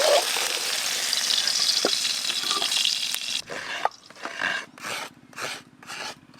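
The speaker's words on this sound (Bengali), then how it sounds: "এই কই মাছগুলো ভাজা হয়ে গেল" Koi fish frying in hot oil, a steady loud sizzle that drops off partway through into intermittent bursts of spitting and stirring.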